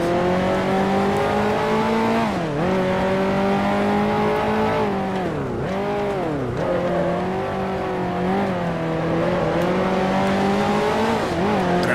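A 1955 Formula One car in Grand Prix Legends, engine loud and close, holding a steady roar with repeated sharp dips and climbs in pitch as it brakes and accelerates through corners, no talking.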